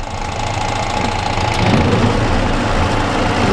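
A lathe turning in reverse cuts a thread in a threaded sleeve with a nut clamped and a drop of oil, a steady, loud mechanical hum with a grinding edge that swells slightly partway through.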